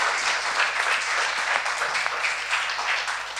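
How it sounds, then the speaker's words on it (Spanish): Steady audience applause following a talk on video games and subjectivity, dense and sustained throughout at moderate loudness, with no voices over it. "Un aplauso, por favor."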